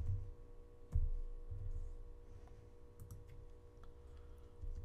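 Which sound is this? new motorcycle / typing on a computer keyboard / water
typing on a computer keyboard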